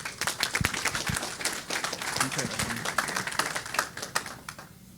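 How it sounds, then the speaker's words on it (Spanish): An audience at a university training session on sustainable gardens claps in a steady scatter of close, crisp claps that lasts several seconds before thinning out. "un aplauso para todos ustedes"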